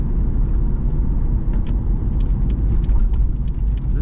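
A full-tank 2003 Chevrolet Corvette 50th Anniversary convertible with about 15,000 miles cruises at speed, heard as a steady, loud low engine and road rumble throughout, with no talk.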